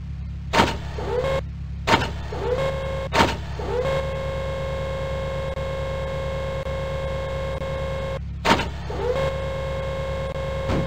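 A StuG assault gun's engine moving in the Microprose game Across the Rhine, a steady droning electronic whine broken by several sharp clunks and brief pitch swoops, fairly loud and alone.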